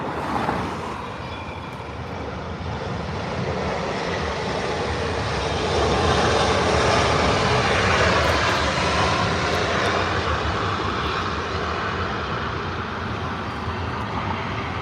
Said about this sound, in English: Air New Zealand, 777, up next for arrival.